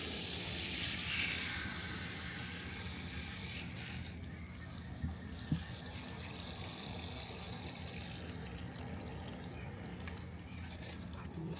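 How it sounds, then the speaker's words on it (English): Water pours steadily over container plants in a summer garden, soaking the pots and draining through to trickle out the bottom, a continuous close splashing wash with a couple of brief knocks and no talking. "And then I'll just water a little bit more."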